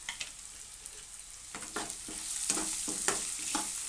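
Idli upma with turmeric is stirred in a hot pan, with a soft sizzle that thickens as repeated scraping strokes of a spoon grow louder and more frequent.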